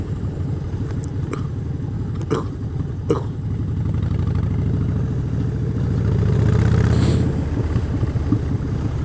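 A Harley-Davidson Street Bob Special motorcycle cruising along a coastal road near Ramsey, its steady low engine rumble continuous throughout and swelling briefly louder toward the end, with faint wind noise and no talk.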